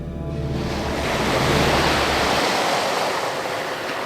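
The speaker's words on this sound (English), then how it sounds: "A new wave washes over us every couple of minutes." Ocean waves wash over a small boat at sea: a heavy roaring surge of water and spray that swells loudly, then slowly recedes into a hissing wash, with no voices.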